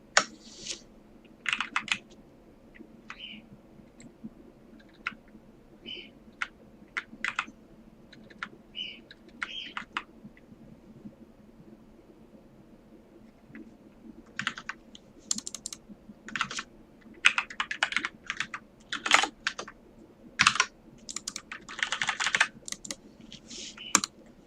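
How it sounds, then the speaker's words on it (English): Irregular bursts of keystrokes clatter on a computer keyboard, with sparse taps early on and faster, denser typing later, close and clear over a faint background hum. "So let's look at the console, and I'll type some keys."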